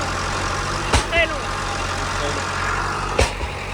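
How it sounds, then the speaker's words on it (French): A tractor drives fence posts into the ground: a steady low engine rumble with two sharp thuds of impact a couple of seconds apart, fairly loud and nearby. "Il faut attendre que le tracteur enfonce les poteaux et c'est très long."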